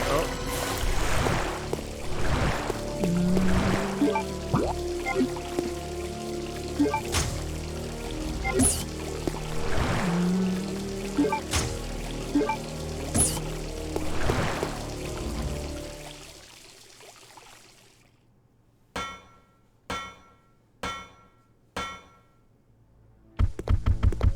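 Character wading and splashing through water in Resident Evil: Code Veronica, steady rhythmic sloshing strokes, then quieter, with a few sharp separate splashes near the end and a voice talking over parts of it.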